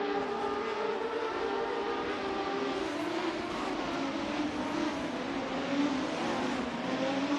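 Formula 3 race cars at COTA in a racing sim game, several engines droning together at high revs with pitches rising and sliding as the cars jockey for position, continuous and fairly loud.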